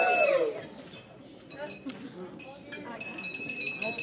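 Glasses clinking during a wedding toast, a few bright, light clinks scattered over murmuring guests and room chatter, fairly soft and close.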